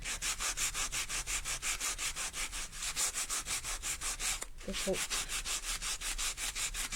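A grubby sanding pad rubs back and forth across a mixed-media craft surface in quick, even strokes, about four per second, close and fairly quiet, with a brief pause midway and a small clatter before the rhythm resumes.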